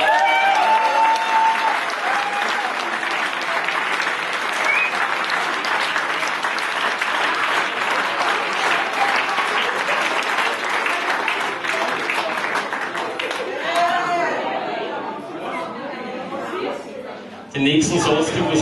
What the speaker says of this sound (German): Einen großen Applaus für unseren Choreografin und die Person, die die Männer im Griff hat.